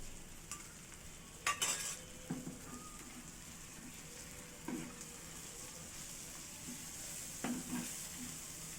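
Onions and garlic paste fry for a fish fry and are stirred in a pan. A soft, steady sizzle runs throughout, with a few scattered scrapes and knocks from the spoon.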